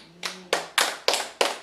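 A church congregation claps at an Easter service, giving five sharp, separate hand claps in an uneven rhythm, close and fairly loud with no talking.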